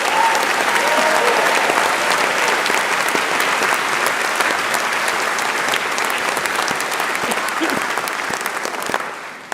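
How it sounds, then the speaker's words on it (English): A big round of applause fills a university graduation ceremony hall, many hands clapping densely and continuously before gradually thinning and fading at the end. "I think Katie really deserves a bigger round of applause than that"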